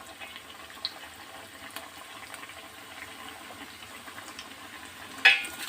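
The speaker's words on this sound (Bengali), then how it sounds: "এবার একটু একটু লালচে বাদামি বাদামি করে একটু ভেজে নেব" Singara pastries, made with wheat flour, fry quietly in hot oil with a soft, steady sizzle and faint bubbling, and a brief clink or splash near the end.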